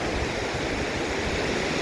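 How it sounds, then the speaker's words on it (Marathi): Water rushes and gurgles near the Palasdari dam in Karjat, a loud, continuous and even wash of flowing water with no other sounds standing out. "आणि हे खळखळतं वाहणारं पाणी"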